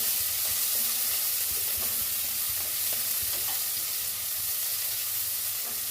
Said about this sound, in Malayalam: ഞാൻ ഒന്ന് ഫ്രൈ ചെയ്തെടുക്കാൻ പോവാണേ